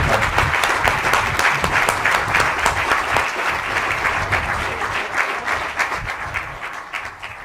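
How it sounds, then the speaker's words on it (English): Sustained crowd applause fills a ribbon-cutting ceremony for a new section of the Grand Parkway, steady dense clapping from many hands that slowly tapers toward the end. "if you would join me in a round of applause for just everybody that worked on this project"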